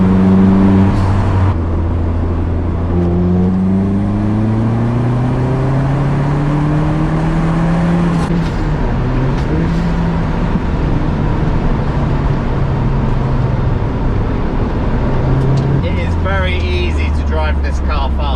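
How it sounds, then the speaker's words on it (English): A Vauxhall VX220 Turbo (Opel Speedster) in motion, with loud continuous engine drone rising and falling through the gears, road roar and light rattles inside the cabin. "There's a lot of interior cabin noise, absolutely, for sure."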